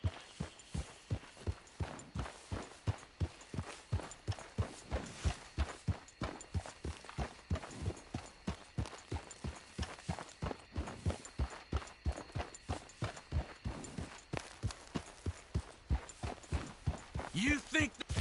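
Horse hooves clip-clop at a steady walking rhythm in Red Dead Redemption 2, each step distinct and evenly spaced for the whole stretch, with voices talking over them now and then.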